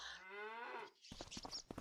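A cow in Farming Simulator 25 gives a single drawn-out moo, fairly close and alone, followed by clattering farm machinery or barn sounds.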